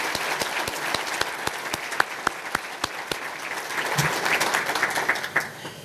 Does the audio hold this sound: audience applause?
yes